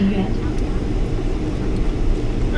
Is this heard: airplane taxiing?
yes